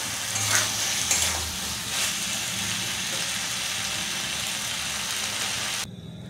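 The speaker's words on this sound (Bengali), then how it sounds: "দেখো বন্ধুরা ভালো করে কষিয়ে নিচ্ছি।" Curry sautés in hot oil in a pan with a steady, close crackling sizzle and occasional stirring scrapes, which then drop off abruptly to a quieter hiss near the end.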